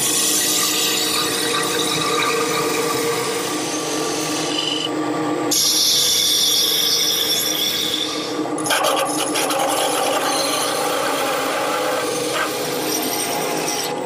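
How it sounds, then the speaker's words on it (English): A skew chisel cuts a bead into turning wood in a corner on a lathe, giving a steady, loud, continuous scraping hiss with brief shifts in tone. "Now I'm switching to a skew chisel because my gouge won't fit in this corner."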